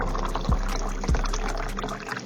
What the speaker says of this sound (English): Pour in hot water mixed with dish soap to rinse.